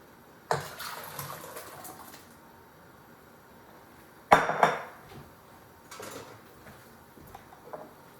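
Pumpkin soup and rinse water poured from a pot into a bowl: two short splashing pours with metallic clinks, the second louder, followed by a few light knocks of cookware.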